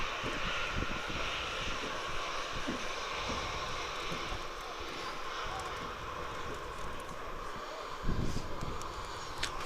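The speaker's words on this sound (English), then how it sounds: "Austrian is also taxiing out." Jet airliners taxi at Manchester Airport in wind and rain, giving a steady, fairly distant engine roar and whine over broadband wind noise, with a brief louder gust near the end and people talking faintly.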